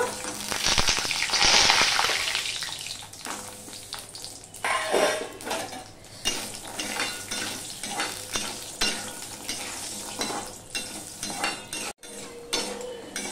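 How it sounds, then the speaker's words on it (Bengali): Kalai dal bori, small lentil dumplings, fry in hot oil with a steady loud sizzle, loudest at the start, while a utensil stirs and scrapes the pan now and then at close range, with no voices. "এটা দেখো তেলটা গরম হয়ে গেছে। এবার বড়িগুলো সবার প্রথমে আমি ভেজে নেব।"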